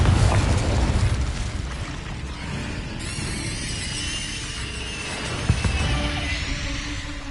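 A Confringo fire spell explodes in Hogwarts Legacy with a loud, booming burst that opens the clip, followed by crackling, rumbling debris and a second sharp impact near the end, with no talking.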